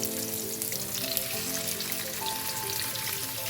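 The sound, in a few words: fresh milkfish (bangus) being added to pan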